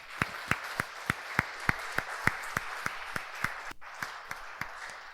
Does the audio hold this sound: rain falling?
no